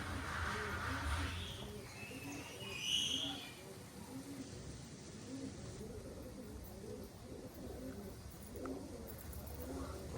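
Soft, repeated cooing of pigeons, low and rhythmic, nearby, with some faint higher bird calls early on.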